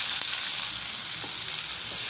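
Onions hit hot oil and fry with a loud, dense, even sizzle that holds steady for a couple of seconds, a faint stir or two underneath and no one speaking.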